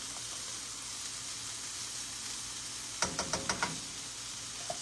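Chopped bacon chunks sizzle softly in a frying pan, a low continuous crackle broken near the end by a quick run of five or six sharp taps, likely a utensil against the pan.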